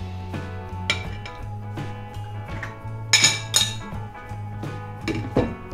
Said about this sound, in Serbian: odnosno pola avokada ubacujemo u secka